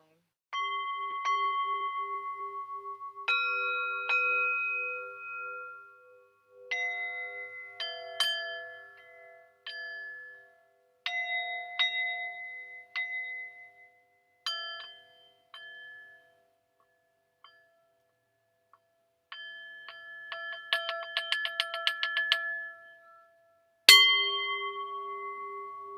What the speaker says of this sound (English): See if you can bring the sound of this bell into your belly,